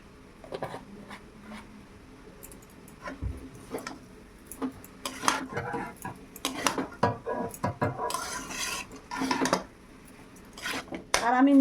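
A spoon scraping and knocking around a pan as date jaggery is stirred over low heat, with irregular clinks and scrapes close by and a voice talking intermittently over them.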